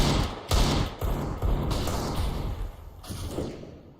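Rapid gunfire bursts and heavy thumping shots from a Counter-Strike: Global Offensive match between BIG and Mousesports, loud and close, repeated in several sharp volleys over a few seconds.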